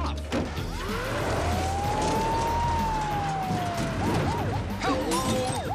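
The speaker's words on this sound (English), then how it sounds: "That's definitely a Navy ambulance." A Navy ambulance siren wails, sweeping up and down over loud, rumbling background noise, then breaks into fast yelping warbles near the end.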